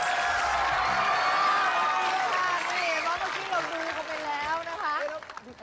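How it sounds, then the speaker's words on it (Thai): A studio audience on a Thai game show applauds and cheers to welcome TM Revolution, a steady crowd roar that thins out toward the end while a host talks over it. "ขอเสียงปรบมืออีกครั้งต้อนรับ TM Revolution ค่ะ"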